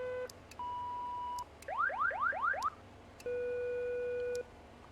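Cockpit alert tones in an X-Plane 11 King Air 350 sound during a preflight test: steady electronic beeps, a series of rising chirping warbles, then a long sustained tone, clear and isolated with no talk.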